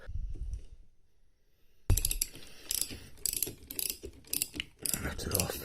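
A ratchet wrench slackens the flywheel nut on a Yamaha YZ engine during a rebuild: a low handling rumble, a pause, then a sharp crack as the nut gives, followed by a run of quick metallic clicks and clinks.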